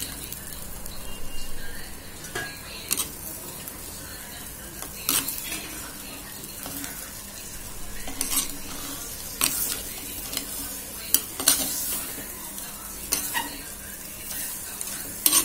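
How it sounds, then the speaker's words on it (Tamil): Crab and ground pepper masala sautéed in a pan with a metal ladle, giving steady sizzling with repeated scraping and clinking strokes, close and fairly loud, with no talking. "நண்டு வந்து கம்மியாக இருக்கிறதுனால நான் கரண்டிலேயே வதக்கிடுறேன்."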